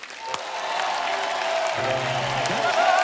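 Studio audience on a comedy talk show breaks into applause for guest Ashish Kulkarni, clapping swelling quickly from a quiet start into steady, dense clapping with a voice heard through it.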